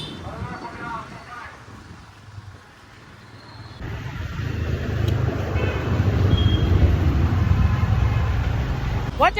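Vehicle driven along a road near the 8th Mile signal, with a steady low engine rumble and traffic noise building louder through the second half, a broad close roar filling the background.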